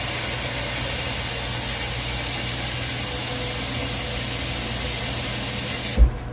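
Tap water pours into a small non-stick wok as a steady, loud, hissing rush that holds evenly for several seconds, then cuts off with a soft knock at the end.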